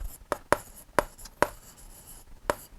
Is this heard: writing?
yes